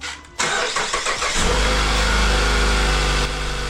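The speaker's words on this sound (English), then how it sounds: "Time to start the car and warm it up" A Mazda CX-5 engine cranks briefly and catches, settling into a loud, steady idle that runs on alone after a short starter whir.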